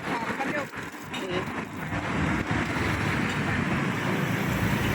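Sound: rain falling

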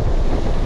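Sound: strong side wind on the coast while fishing

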